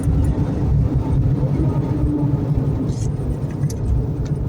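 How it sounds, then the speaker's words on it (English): A car with a suspected bad transmission bearing coasts in neutral while braking, giving a steady low rumble and road drone with a faint whine running underneath throughout. "you can kind of hear it when it's in neutral and I'm braking, but not as much"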